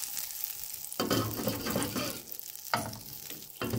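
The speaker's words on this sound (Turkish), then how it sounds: "Böreği yapacağımız tepside eritiyorum" Two spoonfuls of butter melting in a baking tray for Tatar börek, a steady close sizzle and crackle with brief quieter gaps between bursts.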